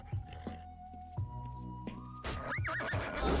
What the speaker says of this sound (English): Oh, the horse?